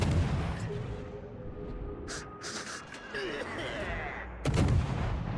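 Naval ship guns firing in a warship video game, heavy booming salvos with sharp cracks and a rumbling blast near the end, loud and close over constant ambient background.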